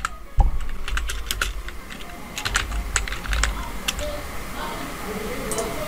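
Keys clatter on a computer keyboard in quick irregular bursts as a name is typed, close and clear with a low background hum.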